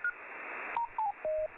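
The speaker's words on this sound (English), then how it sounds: "It sounds like here we got some Morse code going on" Morse code tones come over HF shortwave radio through a WebSDR receiver: a few short, clean tone bursts and dashes at slightly shifting pitches, preceded by band hiss, fairly clear and alone.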